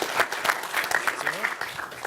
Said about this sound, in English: So let's give them one more round of applause.